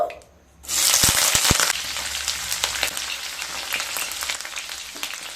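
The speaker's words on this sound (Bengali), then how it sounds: "পেঁয়াজটাকে 30 to 40 সেকেন্ড একটু ভেজে নেব" Two medium-sized chopped onions drop into hot oil in a pan for an Afghani egg curry, bursting into a loud, steady sizzle with a few clattering knocks at the start, then frying on continuously.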